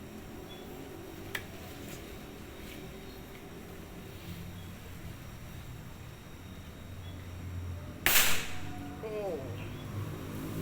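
A Jawara Tiger Deluxe V5 pump air rifle fires a single sharp crack near the end, standing out over a steady hum of outdoor background noise, with a brief spoken exclamation.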